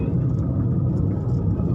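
A car engine rumbles low and steady as the vehicle makes a U-turn on a highway near Birgunj, Nepal, a loud, continuous drone.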